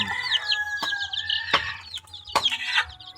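Several native chickens cluck and chirp together, busy and close, with a few sharp knocks and rustles breaking in at intervals.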